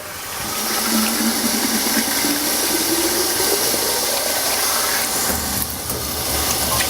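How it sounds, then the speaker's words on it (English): Cold water runs from a tap into a large coffee-maker container in a kitchen, a steady loud rushing stream whose pitch rises gradually as the vessel fills. "fill it up with cold water"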